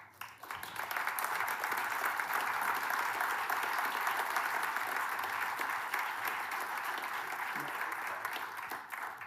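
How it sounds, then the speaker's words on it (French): An audience applauds at the close of a talk on breaking free from social norms. The clapping is fairly quiet and sustained, starting abruptly and holding an even, dense level throughout. "Ils ont applaudi."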